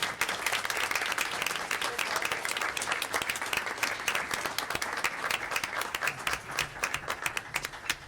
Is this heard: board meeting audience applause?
yes